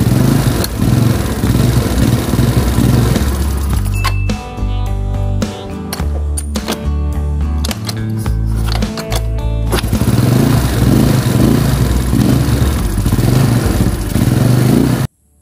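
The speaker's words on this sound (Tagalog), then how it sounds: "napaandar na natin si Mio Sporty na gamit natin yung kickstarter" A Yamaha Mio Sporty scooter fitted with a new kick pinion gear, kick-started and running: a loud, close engine drone broken midway by a stretch of clattering, then steady running again.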